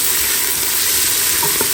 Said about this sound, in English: And this is a large Spanish onion diced. Go, and we're going to saute that until it is translucent.